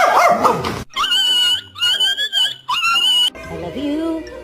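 A scared dog gives a string of high, whining yelps and bark-like cries in close, loud bursts separated by short gaps. A person's voice is heard at the start and near the end.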